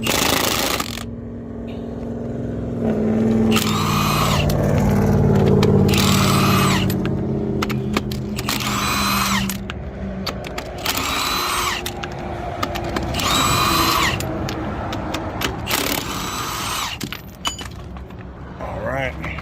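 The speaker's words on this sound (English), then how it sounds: "I'm also gonna cheat and use this impact to get the rest of the lug wrenches or lug nuts off" Impact wrench zipping lug nuts off a Ram pickup truck wheel during a roadside spare-tire change, several loud repeated bursts of whirring and hammering, close by, with a few short pauses and some talk in between.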